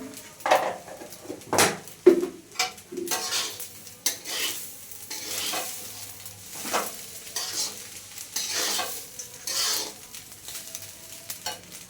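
Turmeric and salt fry in hot oil in a pan for bhuna khichuri, giving a steady sizzle broken by sharp scraping and clattering as a utensil stirs against the pan.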